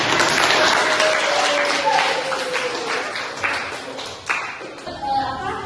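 An audience applauding during a classroom counseling session, steady dense clapping that starts loud and gradually thins out, with some voices mixed in.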